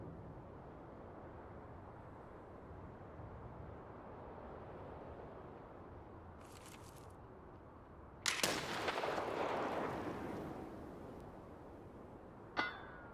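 Grenade blasts in a first-person shooter video game: one loud broadband explosion bursts out with a lingering rumble, followed later by a sharper short blast, over steady low background noise, with no talking.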